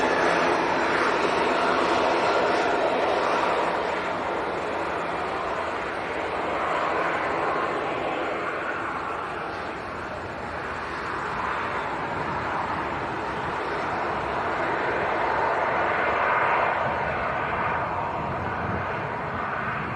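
An airliner departing Leeds Bradford Airport outbound to Faro, Portugal, giving a loud, steady engine roar that swells and eases slightly across the whole stretch, with no talk over it.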